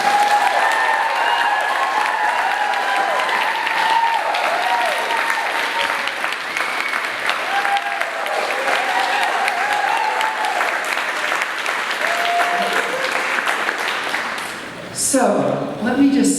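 A comedy club audience gives a comedian a long, steady round of clapping with scattered cheers. The applause fades near the end as a voice begins speaking.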